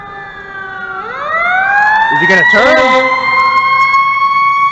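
A fire truck siren wails close by, its rising and falling tones sweeping as the truck passes and growing louder midway, heard on a street in Canada while a person talks over it.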